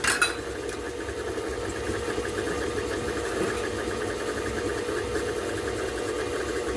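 An electric mixer steadily beats lumpy sugar into white cake batter, a constant motor whir with faint rattling that holds even and unbroken throughout, close by.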